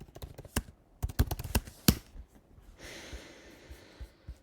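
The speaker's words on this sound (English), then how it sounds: "My keyboard has just stopped working, so what are the chances?" Someone types on a computer keyboard nearby, with uneven clusters of sharp clicking keystrokes and a few louder key strikes, fading into softer tapping.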